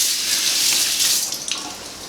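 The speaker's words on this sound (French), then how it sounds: "D'abord, on rince. Je vais rincer aussi ma ciboulette." Tap water running steadily over fresh parsley and chives being rinsed in a kitchen sink, a close, loud, even gush with slight splashing changes as the herbs are moved.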